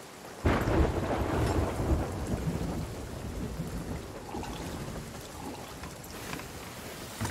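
A thunderstorm with rain in the pirate game Sea of Thieves: a sudden loud thunderclap rolls into a long rumbling wash of heavy rain and sea noise that stays dense and steady throughout, with no voices.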